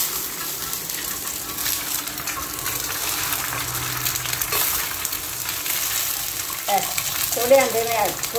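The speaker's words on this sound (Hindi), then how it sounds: "थोड़े अंडे में, थोड़े घी में ऐसे अंडा बना लेते" A small egg fries in ghee on a griddle with a continuous gentle sizzle, and a voice speaks briefly near the end.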